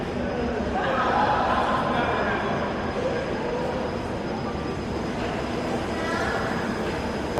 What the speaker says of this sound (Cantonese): 咁啊仲要搭呢架磁浮列車